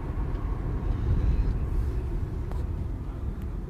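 A car is driving through Hertford along Blue Hills Avenue. A steady low engine and road rumble comes from inside the vehicle, continuous and fairly loud, with no talking.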